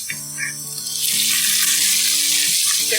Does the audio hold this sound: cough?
no